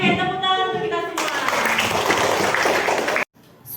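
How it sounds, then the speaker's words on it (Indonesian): A class of schoolchildren claps together in their classroom, a busy burst of applause that follows a teacher's voice and stops abruptly after about two seconds. "tepuk tangan untuk kita semua"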